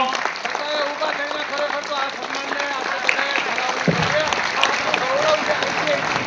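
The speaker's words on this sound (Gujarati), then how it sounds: "જોરદાર તાળીઓ થવી જોઈએ મિત્રો" Steady crowd clapping fills the hall at an ITI Jamnagar skills award ceremony, continuous moderate applause heard under a voice speaking over the sound system.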